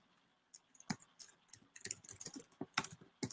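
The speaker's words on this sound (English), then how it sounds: "I'm going to go ahead and type it." Typing on a computer keyboard: irregular bursts of key clicks, some spaced and some in quick runs, close and fairly faint, with no talk over them.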